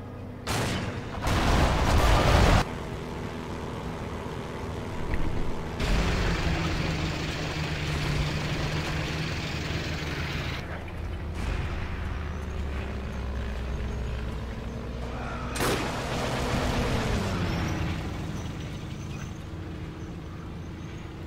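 Gunfire from behind in Forgotten Hope 2 at Gazala: a loud burst of shots at the start, then a steady droning engine rumble broken by further sharp reports and another burst later on.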